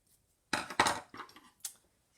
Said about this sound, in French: C'est pas les bons ciseaux.